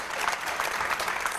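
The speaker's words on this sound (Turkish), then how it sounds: "Bir alkış da buraya" A studio audience at a Turkish television show gives a short, steady round of applause, even clapping with no voices over it.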